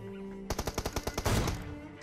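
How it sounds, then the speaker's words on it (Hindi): Rapid burst of automatic gunfire in a battle royale video game, about a dozen sharp shots in quick succession, loud and close, with no talk over it. "तो ये हेडशॉट जो है एंजॉय करो ज़रा"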